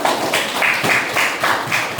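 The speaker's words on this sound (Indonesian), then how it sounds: "Boleh kasih tepuk tangan." A group in a dance class claps together, a dense, even patter of hand claps throughout, moderately loud and close with no clear pauses.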